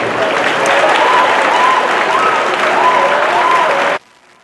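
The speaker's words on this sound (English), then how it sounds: "Let's give them a round of applause." A gym crowd at a 2017 Barren County vs Greenwood high school basketball game applauds the senior class, a dense, even burst of clapping that runs for about four seconds before cutting off abruptly.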